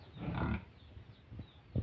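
Pigs kept on a small farm grunt and snort close by, a short low rumbling oink followed by softer snuffling and a brief final grunt, against faint background noise.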